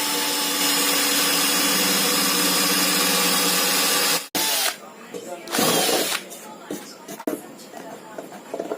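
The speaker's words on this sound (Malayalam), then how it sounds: "അതിനു വേണ്ടിയിട്ട് 2 ഹോളുകൾ ഞാൻ ഇട്ട് കൊടുക്കുന്നുണ്ട്." A power drill whines steadily and loudly while boring holes in a box for a homemade DC pedestal fan, then stops abruptly and a person speaks.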